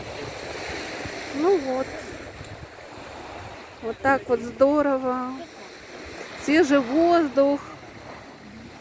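Atlantic Ocean waves and wind roll onto an English beach as a steady rushing wash that runs throughout, partly masked by someone talking in several bursts nearby.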